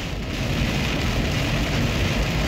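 Very heavy rain pours down on a car driving along a West Coast road, a dense, loud, constant roar of water drumming on the vehicle with no voices.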